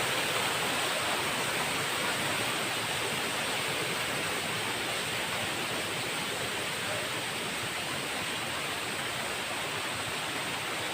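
Pho Hin Dat waterfall in Thailand roars in a steady, dense rush of falling water, constant and loud throughout.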